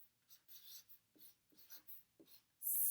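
A pen or marker writing a word in short scratchy strokes, a quick run of close, dry scraping bursts with brief pauses between letters, ending in a louder rubbing stroke, no voices.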